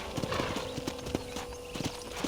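A horse's hooves clip-clop on a ranch in the Red Dead Redemption video game, a quick, close, uneven trot of sharp knocks over a faint steady background hum.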